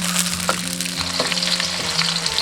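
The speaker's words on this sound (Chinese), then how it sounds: "蒜粒跟姜片，先炒香" Scallion whites, garlic cloves and ginger slices stir-fry in leftover fish-frying oil in a wok, a loud, dense sizzle with light stirring that holds steady throughout, with no talking.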